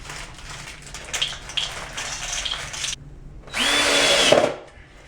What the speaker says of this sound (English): I'm going to insert the clamping collar and screw it down.